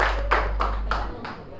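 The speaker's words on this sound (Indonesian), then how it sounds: "Tepuk tangan semua." A class gives a few sharp hand claps in a steady rhythm, about four beats, over a low hum and faint background voices.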